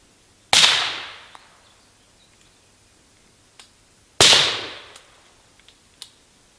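Two loud, sharp rifle shots fired outdoors through PTR Vent 3 and Radical Defense LS 5 muzzle devices, a few seconds apart, each with a decaying echo tail, followed by a few faint clicks and taps.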